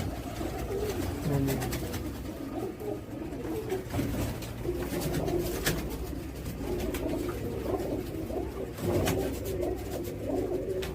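Continuous low cooing from a group of pigeons fills the space, layered and rolling, with occasional rustles and soft clicks nearby.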